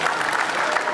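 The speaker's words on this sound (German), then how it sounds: "Oh, Applaus, meine Damen und Herren." Spectators at a live boxing match applaud, a brief, dense, steady wash of clapping lasting about a second.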